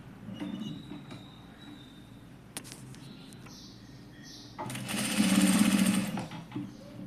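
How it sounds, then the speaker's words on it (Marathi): A sewing machine stitches a zipper onto cloth in short mechanical runs, with a louder, faster whirring burst toward the end and faint handling sounds between. "आता मी शिवून घेते आणि तुम्हाला दाखवते"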